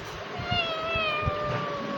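A cat meows close by in a series of drawn-out, wavering cries with a few short low thumps underneath, heard in a Kia Rio car dealership setting.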